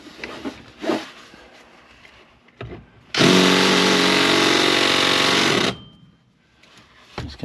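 A power drill bores a hole with one loud, continuous whirring burst of about two and a half seconds, set between quieter stretches of handling noise and knocks.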